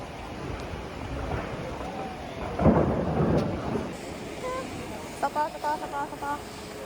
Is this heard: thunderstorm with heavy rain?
yes